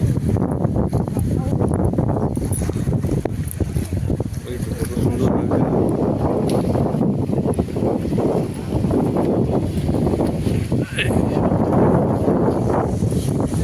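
A small trawler-type launch boat cruises over open water, its steady engine rumble and wind noise running continuously under people talking.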